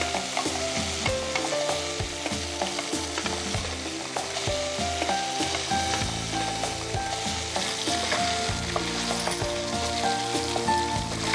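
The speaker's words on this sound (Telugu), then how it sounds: "దాని తర్వాత ఏంటంటే కీమా బాల్స్ డైరెక్ట్ దాంట్లో వేసేసాం సాస్ వేసిన తర్వాత" Keema balls sizzle loudly in a pan with sauce and onion and green chilli, a dense crackling fry close up with stirring scrapes and clinks throughout and no talking.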